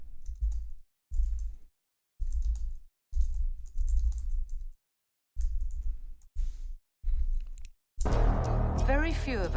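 Bursts of typing on a computer keyboard while entering subtitles in a video editor, several clattering runs of keystrokes separated by short pauses, followed near the end by a louder stretch of other sound.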